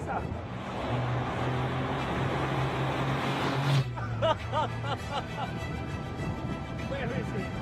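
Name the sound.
Caterham race car engine hitting the rev limiter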